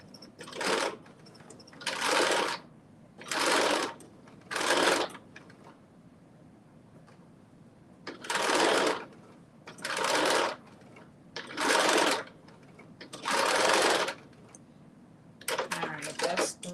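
A sewing machine stitches a fabric casing in repeated short runs of fast, loud whirring, each lasting about a second. Quiet pauses fall between the runs, with faint handling sounds in the background.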